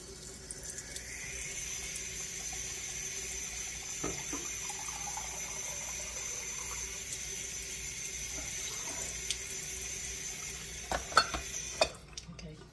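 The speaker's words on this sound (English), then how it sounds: "1 cup of water, cold water, please." Cold tap water runs steadily into a measuring cup at a kitchen sink, a continuous faint hiss with a few small clinks and knocks near the end.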